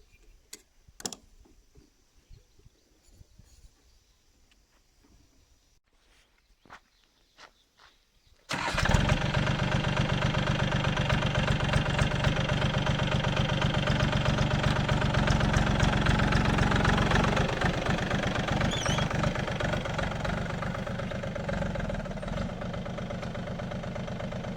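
The engine of a Powertrac mini tractor cranks and starts after scattered clicks and handling noises, then settles into a loud, steady rattling diesel idle close by, with a slight rise in the middle and a gradual easing toward the end.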